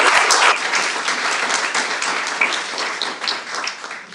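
A room full of people applauding at a community funding announcement, brisk and fairly loud clapping that wavers a little in strength and stays alone with no voices over it.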